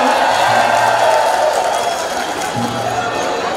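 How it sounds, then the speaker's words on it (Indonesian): Applause and cheering from a festival crowd in Banyuwangi for the district's Posyandu and PKK cadres, a steady dense wash of clapping with some voices mixed in, loud and continuous throughout. "Boleh sekali lagi kita berikan tepuk tangan yang mulia untuk seluruh kader Posyandu dan juga PKK se-Kabupaten Banyuwangi"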